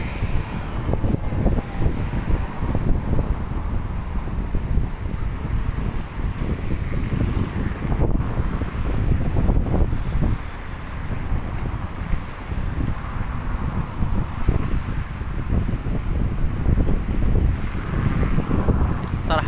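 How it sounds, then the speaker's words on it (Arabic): Sea waves wash ashore at the Rabat–Salé beach on a summer day, a continuous roar of surf mixed with strong wind buffeting the microphone, and faint voices now and then. "هذا هو البحر، الرباط سلا."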